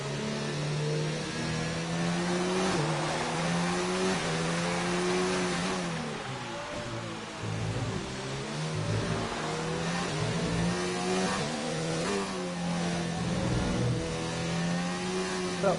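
Racing cars in a Hungarian Grand Prix video game, including a Renault and a Ferrari, scream past with rising and falling engine revs. Several engines overlap loudly and continuously, and gear shifts are audible throughout.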